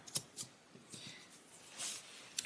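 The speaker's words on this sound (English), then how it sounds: "So I'm just going to cut right there." Scissors snip through a fabric strip for paper piecing, producing a few soft, close cuts and faint rustles spread over a couple of seconds.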